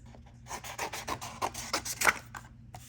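Paper is cut for the inside pages of a coffee-themed scrapbook mini album, heard as a quick run of close, rasping strokes, loud and regular, with no talking.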